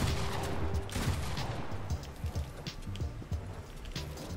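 Rapid bursts of gunfire ring out in a Fortnite Zone Wars match, loud, dense and close, with a low rumbling layer beneath.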